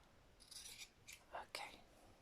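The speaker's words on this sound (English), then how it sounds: "So just cut across the diagonal again." Scissors snip through an old cotton T-shirt cut diagonally into yarn strips, a few quiet close crisp cuts in a short run over a faint background.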